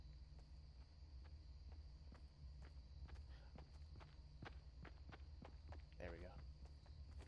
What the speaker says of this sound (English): I hear your footsteps.